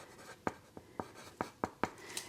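A pen writes notes during an ASMR bedside medical exam role play: about seven short, close scratchy strokes in a quiet room, with no voice.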